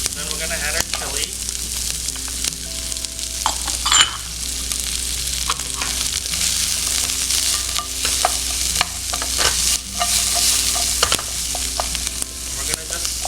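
Small julienned vegetables and chili sweating in a pan, a continuous soft sizzle with repeated scraping and stirring clatter from a utensil close by.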